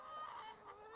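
Hens clucking softly in a coop, a faint, continuous murmur of low clucks from a small flock.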